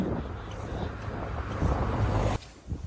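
Wind buffets the microphone in a steady low roar that swells louder, then drops off abruptly near the end.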